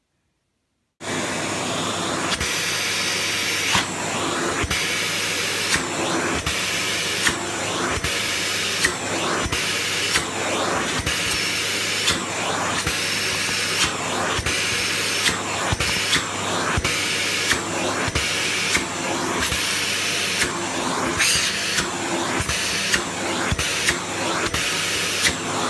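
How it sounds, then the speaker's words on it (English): A Dyson Cinetic Big Ball CY22 Animal vacuum with its upholstery attachment works over a cat-hair-covered cushion, giving a loud, steady motor whine with rhythmic scraping and rustling pulses as the tool is pushed back and forth, with no talk. "I'm going to have a bash at getting rid of this with the upholstery attachment."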